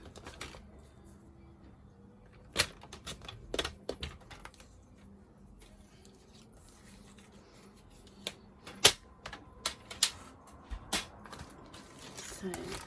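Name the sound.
cutting paper for a card-making project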